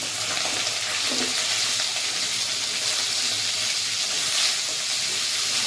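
Potatoes, drumstick pieces and beans frying together in a pan for a rohu fish curry, a dense, continuous close sizzle with a steady hiss and no talking.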